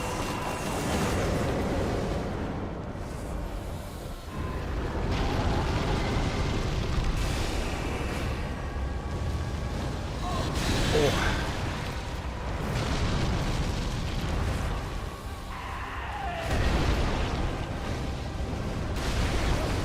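Fire spell blasts in the video game Dark Souls III boom and roar repeatedly over a continuous dense rumble of combat, with no talk.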